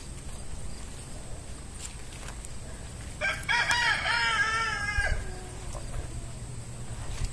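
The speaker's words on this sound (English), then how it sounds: "Chickens!" Rooster crowing once loudly and nearby in a farm garden, a rising then held call lasting about two seconds, with faint scattered chicken clucks and outdoor ambience around it.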